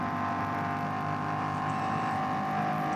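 Race car engine at the NLS endurance race on the Nürburgring, climbing the hill at full throttle: a steady, loud, sustained engine drone with harmonic whine running continuously, with no speech.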